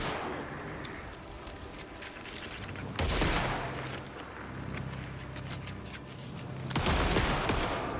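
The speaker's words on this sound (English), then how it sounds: "they were shooting at me" Gunfire in the video game Alan Wake 2: dense, continuous volleys of shots crackle throughout, with heavier bursts swelling louder near the start of the middle and again toward the end, with no voices.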